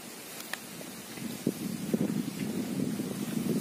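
Gusty wind buffets the microphone in low rumbling surges, growing stronger toward the end, with faint rustling in the background.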